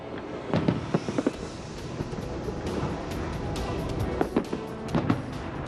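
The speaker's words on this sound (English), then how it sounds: "small clumps of people have gathered all around this area watching the fireworks" Fireworks pop and crackle over the closed Las Vegas Strip ahead of the New Frontier casino hotel implosion, scattered distant bangs in small clusters over a steady outdoor rumble of wind and crowd murmur.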